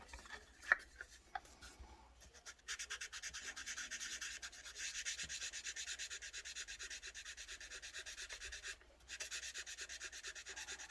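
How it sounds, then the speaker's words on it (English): Sandpaper rubs back and forth over the hood of an AMT 1968 Corvair model kit, a quiet, steady close-up rasping that pauses briefly twice. "as there's a crease in the hood we don't want to lose, so we don't want to sand that down too much"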